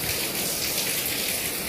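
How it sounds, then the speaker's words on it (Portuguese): Heavy rain pouring down outside beside a house porch, a loud continuous dense hiss of falling water with no breaks and no voices. "porque tá chovendo. Chovendo bem forte."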